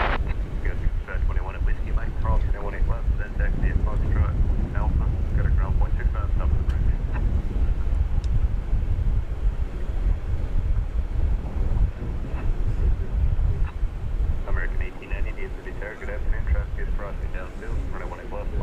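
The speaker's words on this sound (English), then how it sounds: "here comes the flight from Venice on Runway DFW" An airliner arriving on a runway at DFW Airport gives a steady, loud roar mixed with gusting wind across the microphone, while a person talks over it throughout.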